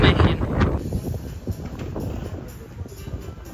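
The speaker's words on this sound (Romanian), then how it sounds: "Bate vântul mult mai tare decât pe Naxos ieri." Strong gusty wind on a beach on Paros, Greece buffets the microphone in rough bursts, loudest at the start, with faint background sounds underneath.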